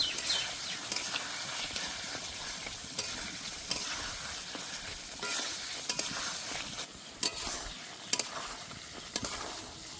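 Fried potatoes being stirred into a ground spice paste in a pan for a fish curry, giving a steady low sizzle with scraping spatula strokes and occasional sharper clinks, no voices.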